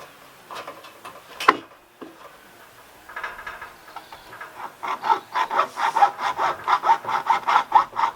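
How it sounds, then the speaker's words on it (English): A hacksaw cutting off a nail during construction of a garden room cabin, starting with a few scattered knocks before settling into steady, quickening back-and-forth rasping strokes, close by with no talking. "I'll go and get a hacksaw and cut that nail off"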